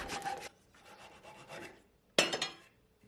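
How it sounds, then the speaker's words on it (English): A small pull saw cuts through a wooden beam on an epoxy-and-wood carving project, with three rasping bursts of close, raspy sawing separated by short pauses, the last stroke starting abruptly and loudly, no voices. "so I'm just going to take a little pull saw here"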